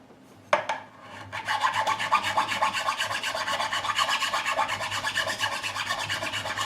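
A metal file rasps along the frets of a Gibson SG Special in faded yellow during a re-fret, a sharp first stroke followed by a steady, loud, rhythmic scraping that continues close up.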